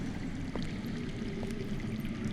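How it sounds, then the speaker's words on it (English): Running water flows somewhere underground in a Game of Thrones Telltale video game scene, a faint, continuous stream heard alone and at a distance. "That's water. I hear water. From underground."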